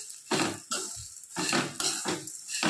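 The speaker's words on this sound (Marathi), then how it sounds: "कमी गॅसवरच चांगलं असं परतून घ्यायचं, याला एकदम मस्त असं छान परतून घ्यायचं" Curry leaves and chutney ingredients are stirred and sautéed over low heat in a pan, giving repeated scraping and clattering strokes of a utensil against the pan in an uneven rhythm, close and fairly quiet with no talking.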